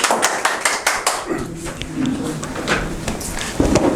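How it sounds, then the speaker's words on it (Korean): An audience at a public talk claps to welcome a speaker, a dense, close patter of hand claps that holds steady for several seconds, with a voice briefly heard under it. "큰 박수로 맞이해 주세요"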